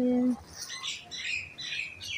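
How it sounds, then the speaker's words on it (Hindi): Birds chirp and twitter in scattered, high, thin calls at moderate distance, following a short tonal sound at the start, against low background noise. "ये पंछियों का चहचहाना"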